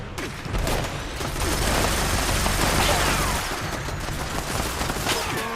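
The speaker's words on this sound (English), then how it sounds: "Okay, so now we have the Bloodied Gatling plasma" Bloodied Gatling plasma gun in Fallout 76 firing a loud, rapid sustained burst for several seconds, then tapering off into scattered crackles.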